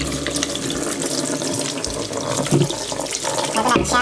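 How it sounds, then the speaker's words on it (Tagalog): Tap water runs steadily into a sink while fresh papaya is washed to remove its sap, a loud continuous splashing stream with brief handling splashes. "Kailangan natin tanggalin yung hugasan na mabuti para matanggal yung dagta"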